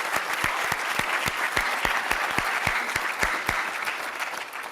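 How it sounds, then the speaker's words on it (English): An audience applauds sanitation research workers at a WASH services plenary session, steady dense clapping throughout with a few louder individual claps standing out near the microphone. "let's just have one more round of applause for all the sanitation research workers"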